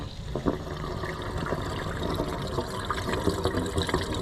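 A rechargeable fuel transfer pump pushes fuel into a tank, a steady rushing, gurgling liquid flow with faint motor hum, continuous and close, with no talk.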